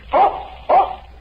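A dog barks twice in a vintage radio advertisement for Buster Brown shoes, two clear, close, separate barks about half a second apart against a quiet background.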